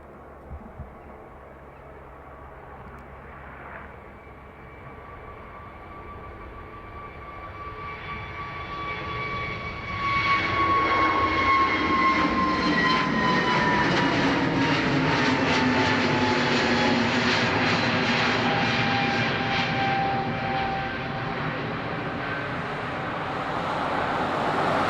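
A Ryanair jet takes off on runway 28 right at Dublin Airport, its engines spooling up from a distant whine into a loud, sustained roar that swells and holds as it rolls and climbs.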